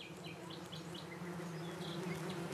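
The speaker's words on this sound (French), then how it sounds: "on entend énormément les abeilles" Bees buzz around viper's bugloss (echium) flowers in a garden, a soft, continuous hum of many insects close by with a few faint chirps over it.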